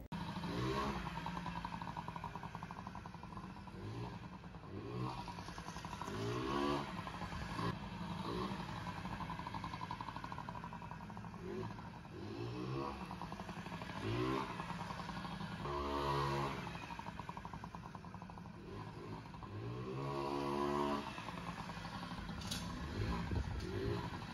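Small Honda Motocompo scooter engine buzzing steadily nearby on a test ride, rising in pitch with repeated revs and accelerations over a constant background drone.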